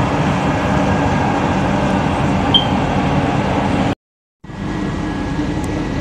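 An LRT Jabodebek light rail train pulls into Ciliwung station with a steady, loud rumble of wheels and interior cabin noise, a brief dropout midway before the rolling noise resumes.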